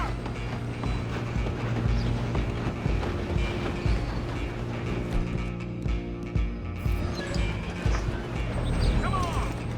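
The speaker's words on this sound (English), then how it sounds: "You stop them, I'll stop the train." A moving train in Red Dead Redemption 2 with horses galloping alongside, steady rolling clatter and rumble joined by hoof beats, with shouting voices over it.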